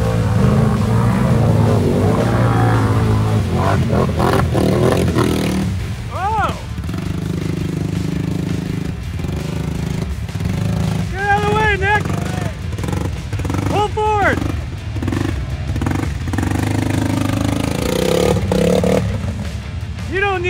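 A lifted turbo ATV engine running in mud on a rainy ride, a continuous rumbling drone with rising revs throughout, heard close under frequent talking and laughter.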